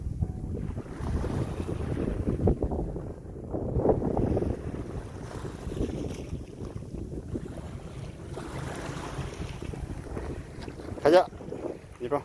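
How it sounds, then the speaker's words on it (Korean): Waves roll in at Daebandong beach in Mokpo under heavy wind buffeting the microphone, a rough, uneven wash of surf with gusty rumble and a brief sharper noise near the end. "파도 소리."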